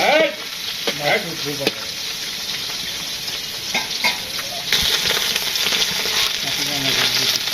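Greens fry with dried chili and onion in a village kitchen pan, a loud continuous sizzle with bursts of stirring and scraping, no talk over it.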